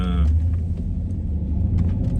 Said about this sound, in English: freaking car acting up here, man